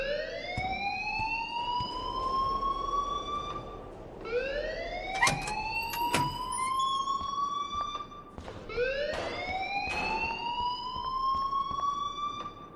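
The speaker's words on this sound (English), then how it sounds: "please turn off that alarm since that's your job" A school alarm in the game Life Is Strange wails in three long rising sweeps, loud and close, with a few sharp clacks between them.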